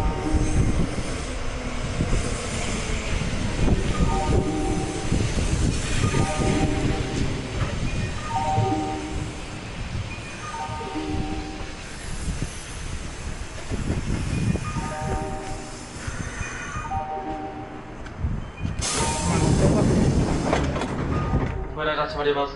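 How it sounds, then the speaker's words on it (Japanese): Riding an express train on the Kintetsu Osaka Line: a steady rumble of wheels on rails with periodic clacks, a chime-like tone pattern, and voices now and then. "じゃあこの電車に乗車いたしますね"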